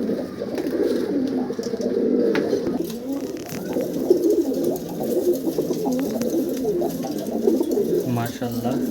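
Breeding pairs of pigeons cooing continuously close by in a loft, soft throaty calls overlapping throughout with a voice talking over them.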